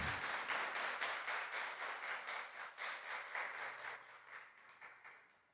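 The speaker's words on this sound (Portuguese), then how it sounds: "se aplauda o Senhor bem forte, porque Ele merece" Church congregation clapping together during an evening worship service, a steady, rhythmic group applause that swells early and then gradually thins and fades toward the end.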